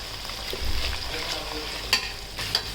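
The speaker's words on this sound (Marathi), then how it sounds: "ते तेलात परतून घेऊ चांगलं. हे 2 मिनटं, 5 मिनटं तरी परतून घेऊ." Thin poha chiwda ingredients fry and get stirred in hot oil, a steady close sizzle broken by a few sharp scraping clicks of the spoon against the pan.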